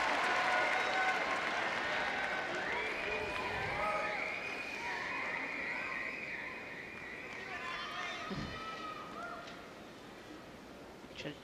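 A home crowd cheers and applauds at a ladies' free skate at the 2013 ISU World Figure Skating Championships, a broad sustained roar that swells midway and slowly fades, with commentators talking over it.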